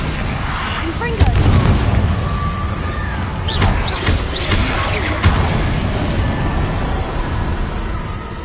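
Confringo spell blasts in Hogwarts Legacy, low booming explosions and bursts amid continuous combat noise, with a voice speaking over the action.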